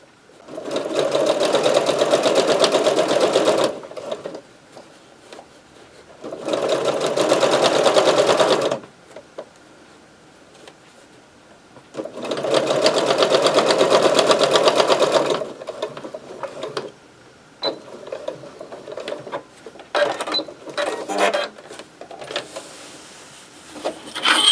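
A sewing machine stitches a seam on a custom Bible cover in several loud bursts of steady whirring, broken by quiet pauses and shorter, choppier runs toward the end.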